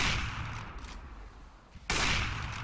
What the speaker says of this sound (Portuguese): Leme já tomou tiro parado, jogaram muito ali o Team Liquid